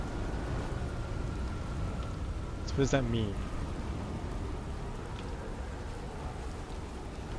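Rain and thunder from a storm in the video game Outer Wilds, a steady broadband wash of rainfall with a brief rumbling surge midway, heard under someone talking.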